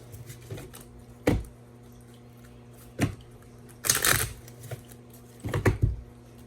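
Cards are handled and shuffled in a few separate rustling bursts with pauses between them, close up against a low steady hum.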